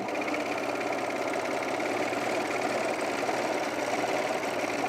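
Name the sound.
sewing machine stitching thick fabric of men's pants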